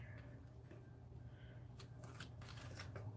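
Tarot cards are shuffled close by, with soft riffling flicks that build into a quick burst of sharper snaps near the end, heard alone over a low steady hum.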